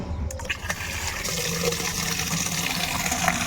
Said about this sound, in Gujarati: તો મિત્રો આપણે પાણી ભરીએ.